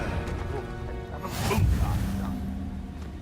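Confringo, a blasting curse spell cast in the video game Hogwarts Legacy, erupts in one loud whooshing blast midway with a rumbling tail over steady game ambience.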